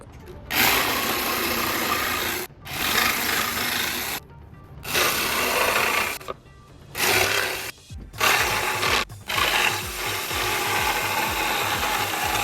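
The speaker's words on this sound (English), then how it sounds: "And now I just need to cut it out with the jigsaw." A jigsaw cuts through drywall for a plumbing access panel in several rattling buzzing bursts separated by short pauses, close and fairly loud.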